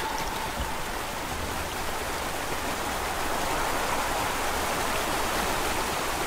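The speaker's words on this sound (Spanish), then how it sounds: "Voy a una cascada." Steady rushing water from a waterfall in the video game MIND: Path to Thalamus, a broad continuous roar that holds evenly throughout with no talk over it.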